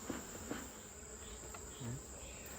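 Angry honey bees swarm around an open hive during an inspection, a faint steady buzz filling the air with a few louder passes of individual bees close by.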